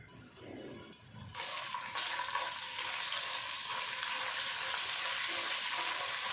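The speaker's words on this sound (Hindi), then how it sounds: "फ्राई कर लेते हैं ताकि अच्छे से इसको खुशबू आ जाए" Ginger and garlic hit hot oil in a kadai and start frying with a loud, steady sizzle that rises suddenly and keeps crackling, close up, with no talk.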